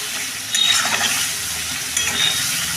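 Spice mix frying in hot oil in a pan, a dense steady sizzle with stirring scrapes and small bursts, close and loud with no talking.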